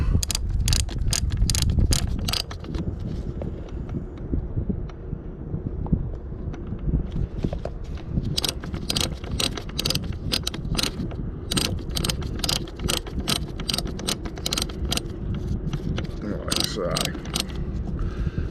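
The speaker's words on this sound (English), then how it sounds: "you can start rotating the winch mechanism" Sailboat winch being turned by hand while being greased, giving a continuous close ratcheting, clicking mechanical whir with metallic pawl ticks, heard under some talking.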